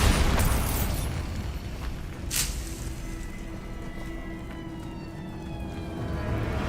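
A Bombarda spell explosion in the game Hogwarts Legacy, a loud booming burst at the start with a second sharp blast partway through over rumbling game ambience.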